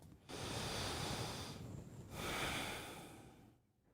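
Two long, slow breaths, a deep airy inhale and exhale each, close and soft, separated by a brief pause.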